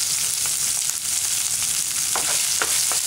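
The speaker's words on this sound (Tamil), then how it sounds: "வெங்காயம் நல்லா வதம் போட்டோம்." Onions and curry leaves fry in a pan for a Tamil manathakkali keerai poriyal, making a loud, steady crackling sizzle up close, with a few quick scraping stirs near the end.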